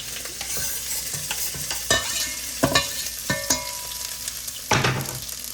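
Vegetables frying in a hot pan, a continuous close sizzle broken by sharp pops and several distinct scrapes of stirring, fairly loud with no talking.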